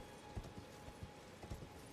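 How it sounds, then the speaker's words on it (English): Horse hooves clip-clopping in the Elden Ring video game, a steady, light rhythmic trot of soft hoofbeats heard faintly over a low background ambience. "I think Torrent is the best horse in video games ever"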